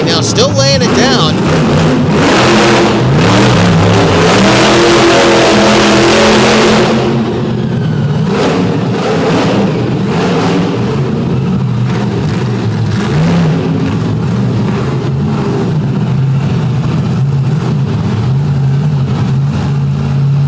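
A badly handling truck at a destruction derby event revs its engine hard, a loud sustained roar that drops to a rougher, wavering rumble, with a commentator talking over it throughout.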